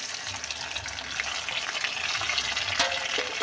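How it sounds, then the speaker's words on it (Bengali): Onions frying in a pan of hot oil tempered with cumin, nigella seeds and bay leaf, alongside tomato and green chilli, give a steady close sizzle with faint scraping and stirring throughout. "পেঁয়াজ দিয়ে দিলাম।"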